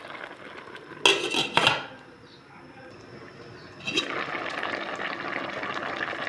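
Lid set back onto a cooking pot of eggplant and pumpkin simmering in coconut milk with chicken, two sharp metallic clanks close by, followed by a quieter lull and then a steady hiss of bubbling or pouring liquid.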